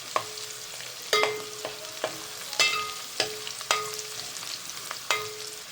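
Ginger and garlic fry in a pan for pav bhaji, with a soft continuous sizzle. A spoon scrapes and taps against the pan in sharp, repeated strokes about once a second.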